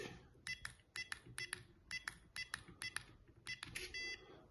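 A Marelli PASS coded lock cylinder beeps as it wakes, a quick run of about eight or nine short, sharp electronic beeps in an uneven rhythm, ending in a slightly longer tone, quiet and close.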